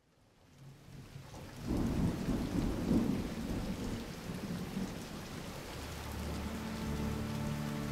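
Heavy rain pours down steadily while thunder rumbles low, swelling in after a quiet start and staying loud and continuous to the end.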